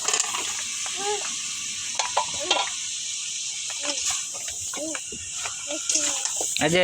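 Sweet pumpkin being sautéed with spices in a pan, a light sizzle and stirring heard beneath people talking nearby.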